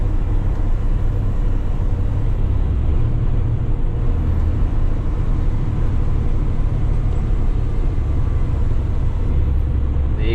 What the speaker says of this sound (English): The exhaust brake is way smoother than my International.